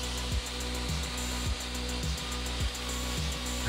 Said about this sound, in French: on utilise l'aspirateur à proximité de la brosse métal